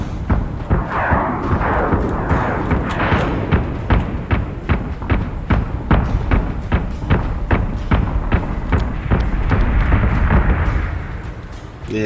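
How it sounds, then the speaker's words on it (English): Missiles fire and strike during a space battle in Battlestar Galactica Deadlock: a long run of repeated heavy thumps and blasts in steady succession over a low rumbling bed of combat noise. "Missile away."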